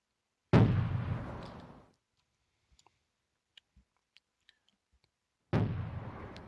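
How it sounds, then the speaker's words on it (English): Artillery shelling in the Wargame strategy video game: two loud, broad rumbling blasts, one near the start and another after a few seconds, with faint scattered clicks in between. "He's shelling where he thinks my guys are."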